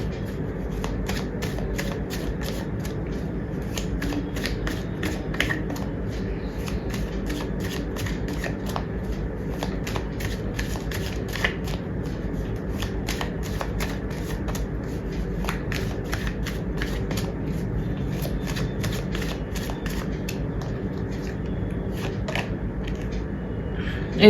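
Tarot cards are shuffled and drawn by hand, giving a steady run of crisp, close flicks and riffles that continue evenly throughout with no talk over them.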